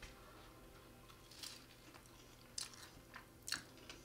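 Crunchy choux-pastry profiterole with vanilla ice cream and warm chocolate being chewed close up, a few sharp crisp bites at irregular moments over a quiet background.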